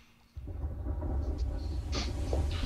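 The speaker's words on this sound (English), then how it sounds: "Ah, I love a good storm." A thunderstorm rolls in within the medieval game Kingdom Come: Deliverance, a deep low rumble of thunder swelling suddenly and holding steady, with a faint hiss of rain layered over it and no talking.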